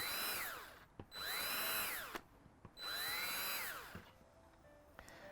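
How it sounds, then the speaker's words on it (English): Electric drill with a 1/16 inch bit boring small holes around the edge of a plastic bucket, three whining bursts that rise and fall in pitch with short pauses and clicks between them, close up. "I got my 1/16 inch bit in here, and I'm just going to go around the edge and make a bunch of small holes"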